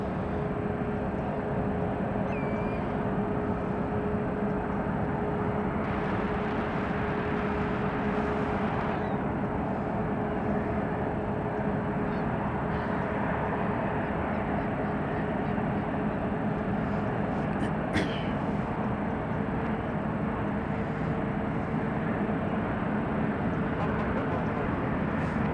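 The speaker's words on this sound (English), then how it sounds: "We have a 737 taking off." A Boeing 737 takes off at San Francisco airport, its engines a broad, constant roar from a distance that holds steady throughout, with a faint tonal hum running beneath it.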